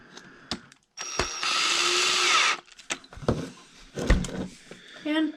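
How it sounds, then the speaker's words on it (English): A power drill whines loudly for a second or two, bogging down, then cuts off, with clattering handling noises and brief bursts before and after, during an Axial Ridgecrest transmission repair. "listen for the noise of the drill or whatever starting to slow down"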